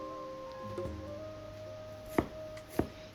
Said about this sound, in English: Then cut the rest of the melon into very thin slices.